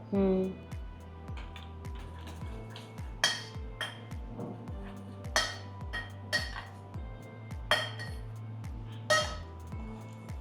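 Eggs seasoned with salt and black pepper are whisked in a bowl for an omelette, giving a steady run of quick rhythmic taps and clinks, with brighter metallic clinks standing out now and then over a faint low hum.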